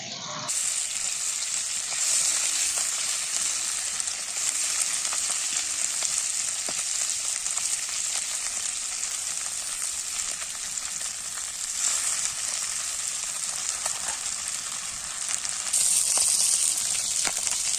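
Loud, steady sizzling of small river catfish (tengra) frying in hot oil, crackling continuously for a long stretch with occasional spits and pops.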